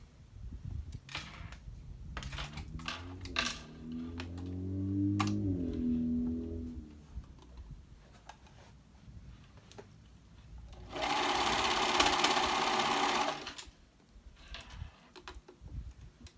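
A domestic sewing machine stitches around the neckline of a reversible dress in a burst of rapid whirring, preceded by scattered clicks and low handling noises from working the fabric, all close and fairly quiet.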